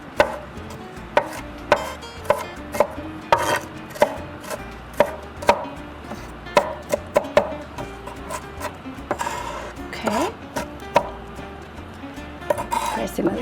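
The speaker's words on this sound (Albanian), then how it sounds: "Qepa më duket që ta grim sa më imët." Onion being chopped finely on a board for a sea bass dish with orzo and spinach, a steady run of sharp knife taps close by, with talk over much of it.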